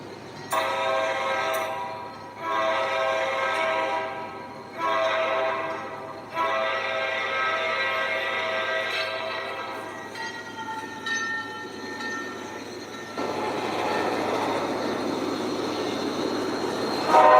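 A train approaches and passes as an F40 locomotive sounds its horn in repeated blasts, and wheels clatter and squeal as the cars roll through.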